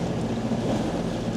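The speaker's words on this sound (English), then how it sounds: "Usually when you get wind against tide, you get sharper waves like this." Choppy, sharp waves slapping near a boat on a flood tide, with a southerly wind running against the tide; a steady, close wash of water and wind noise with no voices.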